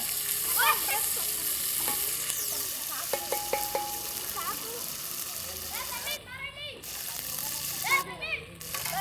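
Tempering spices sizzling in hot oil during a cooking challenge, a steady frying hiss with stirring clatter and a few utensil knocks, while people talk nearby throughout.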